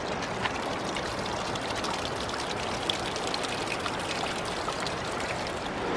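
Continuous rushing water from a river running high near hot springs pools, a broad steady flow like a swollen river nearby, with no voices.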